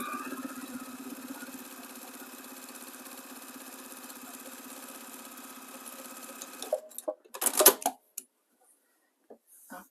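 A sewing machine runs steadily while stitching quilt rows together for a scrappy beginner quilt, a continuous mechanical whir that stops near the end, followed by a few brief handling clicks and rustles.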